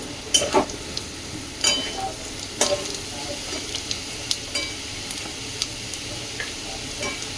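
Curry leaves, asafoetida and cumin seeds hit hot oil with a steady close sizzle, broken by a few sharp stirring scrapes and clinks.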